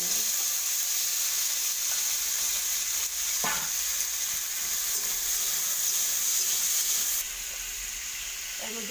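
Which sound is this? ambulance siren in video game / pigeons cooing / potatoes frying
potatoes frying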